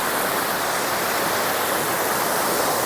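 A steady, full roar of falling water pours on without a break, loud and close, with no voices.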